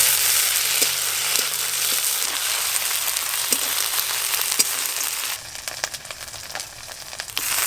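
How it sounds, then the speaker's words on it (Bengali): Sliced onion with ginger-garlic paste fries in a pan with a loud, continuous sizzle and occasional ticks, then softens into a quieter, crackling fry near the end. "এবার আদা রসুন বাটা দিয়ে সব কিছু একসঙ্গে ভালো করে ভাজবো"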